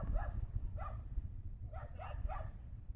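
A puppy yips several times, short high barks spaced out then a quick run of three, moderately close over low background rumble.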